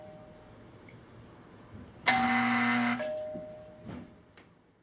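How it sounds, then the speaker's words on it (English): A single bright electronic chime rings out, holding for about a second before fading, with a couple of softer clicks afterward in a quiet room. "This will work with your existing doorbell chime or door intercom."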